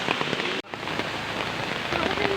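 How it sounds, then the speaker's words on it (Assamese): Heavy rain pours down steadily during a flood, a dense, close hiss of drops striking surfaces that continues almost without a break. "ইফালে বানপানী আহি গৈছে বৰষুণো আহি গৈছে"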